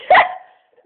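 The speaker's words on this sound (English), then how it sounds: "That's a hiccup." A single short, sharp hiccup from a drunk woman, close and fairly loud, followed by a brief fading breathy tail.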